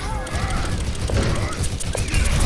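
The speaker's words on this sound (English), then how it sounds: "Oh, the Rocket Barrage is used." Rocket Barrage ultimate firing in Overwatch, a rapid volley of rocket blasts and explosions packed into a busy, loud game mix with constant crackling impacts.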